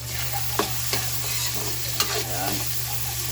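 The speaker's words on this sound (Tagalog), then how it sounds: "Ayan mga idol, mayroon tayong ginisa" Onion, garlic and tomato sauté in a hot pan for ginisang talong, a steady close sizzle with a few sharp stir clicks from a utensil scraping the pan, and a constant low electrical hum underneath.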